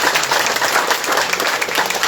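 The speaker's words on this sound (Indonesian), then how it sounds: "Tepuk tangan untuk kita." Audience clapping at a regional government grant handover event, a steady dense burst of applause from a crowd, loud and sustained with no clear talk.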